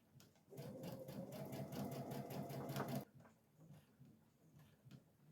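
A sewing machine runs fast and steady for about three seconds while stitching a pillowcase, then stops, leaving quieter handling noises.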